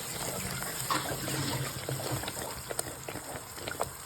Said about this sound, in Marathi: बघा काही आता आपण हा मसाला चांगला भाजून घेत आहोत,